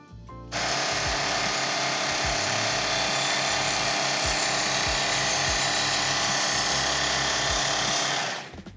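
A serrated knife pulled across the abrasive belt of a home bench belt grinder, giving a loud, steady grinding hiss that starts abruptly and holds for about eight seconds before cutting off.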